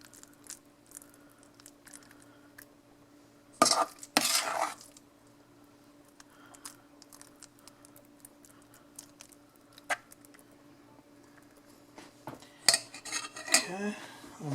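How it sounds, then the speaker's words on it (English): A utensil clinks and scrapes against a dish while ricotta and cottage cheese are mixed for a grilled lasagna, with a few loud clattering bursts among sparse lighter taps over a low background hum; nobody speaks. "we'll add our ricotta cottage cheese mix in here"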